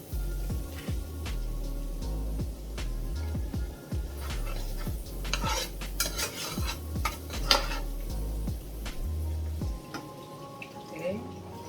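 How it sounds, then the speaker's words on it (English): Macaroni in a pot being stirred after evaporated milk is poured in, with repeated metallic scrapes and clanks from a spoon against the pot, close, over a low steady background with a voice at times. "keep stirring"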